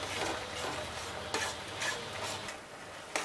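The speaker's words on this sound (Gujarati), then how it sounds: "હજી આપણે એને ચલાવીશું આ બબલ બંધ થઈ જાય ને ત્યાં સુધી આપણે ચલાવવાનું છે" A spoon stirs halwa in a pan as it cooks down, producing a steady soft bubbling sizzle with occasional scraping knocks against the pan.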